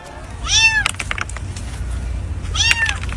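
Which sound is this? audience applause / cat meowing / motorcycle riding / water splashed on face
cat meowing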